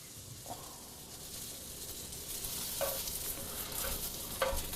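Food browns in a frying pan, giving a soft, steady sizzle with a few light scrapes of a utensil, close but quiet and without any voices.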